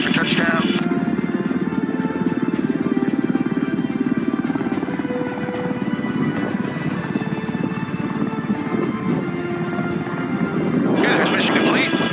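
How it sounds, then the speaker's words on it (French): An autonomous US military helicopter approaching and landing, its rotor and turbine producing a steady loud droning whine with a buzzing rotor pulse that swells near the end. "the aircraft will come in at 90 knots approach speed"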